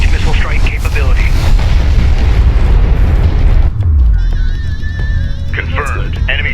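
Enemy siege cruiser exploding in the Homeworld: Deserts of Kharak strategy game, a loud sustained rumbling boom with heavy low roar that drops away near the end, followed by fainter tonal game effects.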